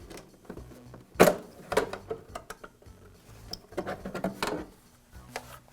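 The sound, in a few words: shroud lifted and pulled off a DeWALT planer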